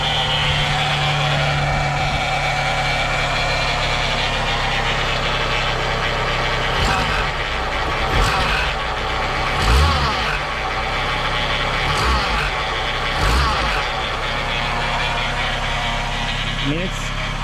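An idling car engine holds a steady drone with a thin, persistent whine riding over it, loud and close, joined by a few faint knocks and clicks partway through.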